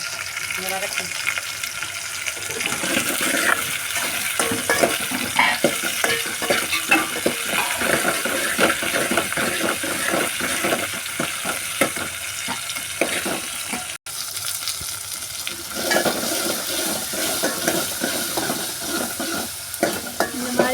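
Tomatoes and tamarind sauté in oil for a tapioca curry, making a continuous close-up sizzle broken by rhythmic scraping and stirring strokes that run throughout, with a brief pause midway.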